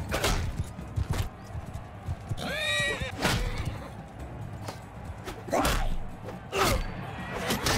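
In Mount & Blade II: Bannerlord, a horse gives a clear rising whinny amid galloping hooves and heavy battle thumps and swishes, with repeated loud impacts around it.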